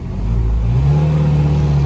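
A car whose wheels have frozen to the ground after a thaw revs hard in winter cold, a loud, close, steady engine drone that climbs in pitch as the revs build, with no talk over it.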